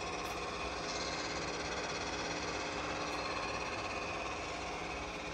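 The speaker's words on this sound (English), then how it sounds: "The spindle speed has been increased to 200 RPM." A Csepel RF 50/1600 radial arm drill spindle runs steadily at 200 RPM, a continuous even mechanical whir with a faint humming drone, heard alone with no talk.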